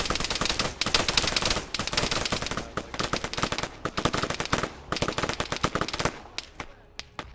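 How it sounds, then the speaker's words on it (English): Enemy units in the Arma video game keep up heavy, rapid gunfire, with dense overlapping automatic bursts and single shots that stay loud and close. The volley thins into scattered separate shots near the end. "They're not shooting through, they're shooting from the high ground."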